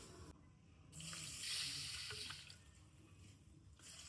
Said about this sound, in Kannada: ಒಂದೂವರೆ ಪಾವು ಅಕ್ಕಿನ ನೀರು ಹಾಕಿ ನೆನೆಸ್ಕೊಬೇಕು